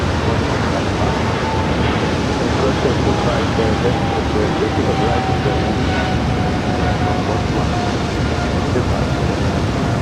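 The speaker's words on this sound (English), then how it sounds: "That is Singapore Airlines Flight 11 taking off to Tokyo Narita on a 777-300ER" A Singapore Airlines Boeing 777-300ER takes off, bound for Tokyo Narita. Its loud, steady broadband engine roar fills the whole stretch, with a faint whining tone running through it.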